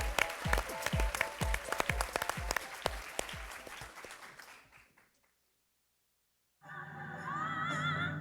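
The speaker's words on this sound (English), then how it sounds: "She is our first finalist, so give her a round of applause." Audience applause at a live charity pitch event in a theater, welcoming a student finalist; loud, close clapping for about five seconds, fading out into silence before a voice begins speaking.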